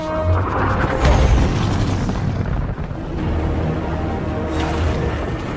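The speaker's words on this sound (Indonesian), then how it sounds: "membuat mobil truk minyak itu pun hancur dan meledak" An oil tanker truck blows up in a film scene, a deep, loud booming blast that rolls into sustained low rumbling and a second surge of fiery roar, with no voices.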